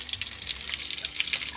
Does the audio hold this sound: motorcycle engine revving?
no